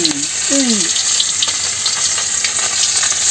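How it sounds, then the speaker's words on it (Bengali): Fish frying in hot oil in a village kitchen pan, a steady broadband sizzle running throughout at close range, with a brief voice-like tone near the start. "ফ্রাই মাছ ফ্রাই ফিশ ফ্রাই হইব ফিশ ফ্রাই হইব"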